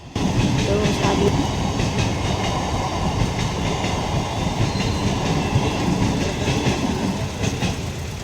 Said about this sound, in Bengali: কি সুন্দর ট্রেন যাচ্ছে।